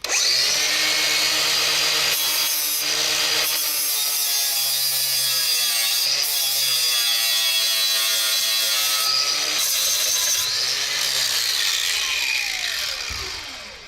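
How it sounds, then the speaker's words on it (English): A power tool cuts into a test bell housing for a 2JZ-GTE VVT-i engine swap into a BMW E46 M3, whining loudly and steadily for about fourteen seconds, its pitch rising and dipping as the cut bites, with no talking. "let's just cut in here and get some space"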